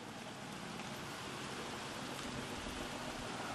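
Steady, dense rain hiss fills the scene, an even wash of falling drops with no voices or breaks.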